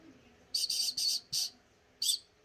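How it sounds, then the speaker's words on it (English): Whistle blown hard in five short sharp blasts, the first three close together, then a pause before the last two, bright and shrill over a quiet background. "I got I got a whistle."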